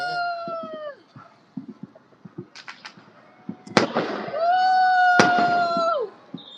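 New Year fireworks over Ho Chi Minh City, some launched from rooftops: scattered distant pops build to two sharp, loud bangs, while long wavering whistle-like tones sound beside them.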